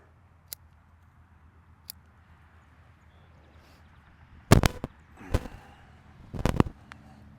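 Pruning cuts on elm bonsai branches, a few faint snips early on, then several loud, sharp clips and cracks of shears through wood in quick clusters, heard close with no talking.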